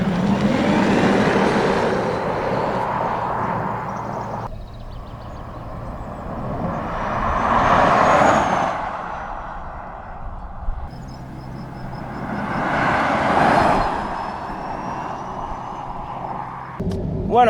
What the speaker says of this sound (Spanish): os dejo con unos clips de aceleración y sonido de motor